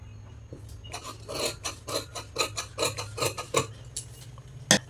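Scissors cutting canvas fabric to shape for a blouse back neck, a close series of crisp rasping snips in an uneven rhythm, fairly quiet, ending with one sharper cut.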